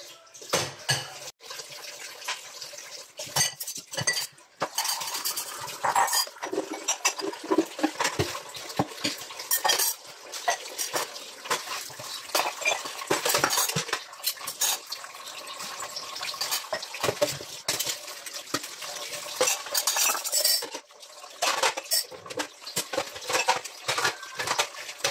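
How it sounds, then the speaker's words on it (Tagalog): Dishes and plates washed in a kitchen sink, with cutlery and crockery clinking and clattering steadily alongside running tap water, close and continuous without pause. "Maghugas tayo ng plato."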